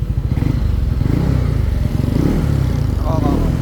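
A motorcycle engine revs steadily under load on a dyno, with a fast, throbbing rumble, loud and close, holding a strained drone throughout.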